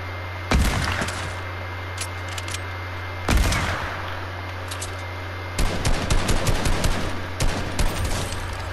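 A rifle fires in the Fortnite video game: three sharp, loud shots spaced a few seconds apart, the last followed by a rattling burst of gunfire, over a low steady game hum.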